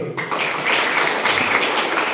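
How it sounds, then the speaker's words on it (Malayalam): Children in a classroom clap together at an awareness session, a steady burst of applause filling the room for about two seconds with no voices over it. "ഒരു കയ്യടി കൊടുക്കുക"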